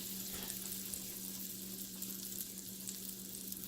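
A tablespoon of butter sizzles steadily in a pan for a chicken quesadilla, a soft, even hiss with faint crackles and no voices.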